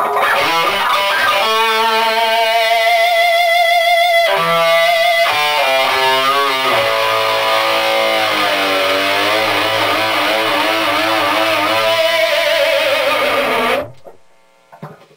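Loud, distorted electric guitar, a Strat through an overdriven Marshall JCM 800 amp, playing sustained, gritty chords and bending notes for about fourteen seconds, then cutting off abruptly into a brief ringing tail.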